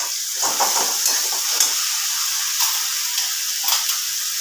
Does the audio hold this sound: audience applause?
no